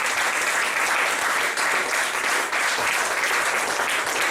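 A church congregation applauding and cheering for Jesus, dense, steady crowd clapping with a continuous roar of voices, loud and close, filling the whole stretch.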